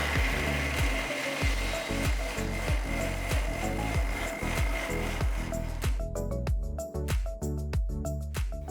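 A kitchen mixer grinder whirs loudly as it blends four roughly chopped medium tomatoes into puree, pulsing in a steady chopping rhythm before the motor note clears and smooths toward the end.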